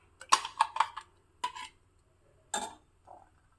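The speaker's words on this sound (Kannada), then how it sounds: "ಇದಕ್ಕೆ ರುಬ್ಬಿರೋ ಮಸಾಲ ಮಿಶ್ರಣನ ಹಾಕ್ತಾ ಇದ್ದೀನಿ" Ground masala paste goes into cooked lentils for a traditional Dwadashi dish, with a handful of sharp metal spoon clinks and scrapes against a vessel in short, separate bursts, close by with no talking.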